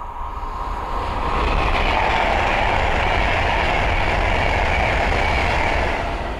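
A Class 390 Pendolino electric train rushes past on the West Coast Main Line at Linslade, a loud, steady broadband roar that builds in the first second and holds close throughout.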